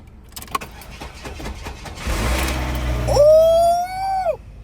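An old beater car that was jump-started after its battery died cranks with a whirring starter, then its engine catches and runs loudly up close, with a rising squeal near the end.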